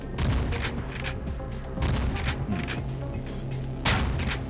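Gunfire in the Ion Fury video game: several bursts of sharp, booming shots land in quick clusters, with short gaps of quieter background between them.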